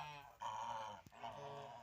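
A goose gives a drawn-out, nasal honk, close and fairly loud, then a short sharp sound and a second fainter honk.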